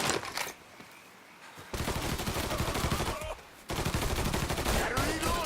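Gunfire in the video game Mafia III: rapid bursts of shots, loud and close, in two long volleys separated by a brief lull, with game ambience throughout.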